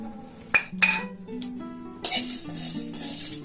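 A spoon stirs dry chilli, cloves, cardamom, cumin and white pepper frying over a low flame in a metal pan. A few sharp clinks and scrapes ring out over a soft background hum.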